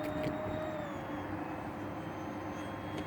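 A Dynam Turbojet 550 RC model jet, built as a Cessna Citation II, flies a slow pass, giving a steady airborne whine and rushing engine drone at moderate distance.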